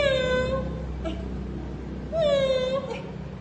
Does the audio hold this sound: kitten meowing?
yes